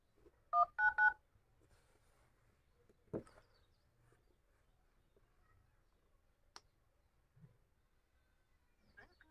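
Phone dialing tones from a call placed on a Noise ColorFit Icon 2 smartwatch: a quick burst of three loud dual-tone beeps near the start, followed by a few faint clicks and soft taps in an otherwise quiet room.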